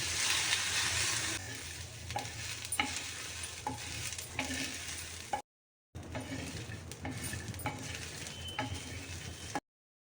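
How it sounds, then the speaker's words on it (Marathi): Steady sizzling with repeated scraping stirs as fresh pigeon peas dry-roast on a hot griddle, broken by a brief silent pause midway. "दाणे आता आणि तव्यावर थोडेसे भाजून घ्यायचे"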